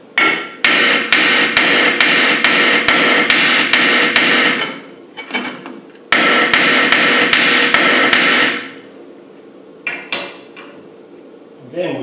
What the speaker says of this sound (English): I just tried tapping them a little bit with a hammer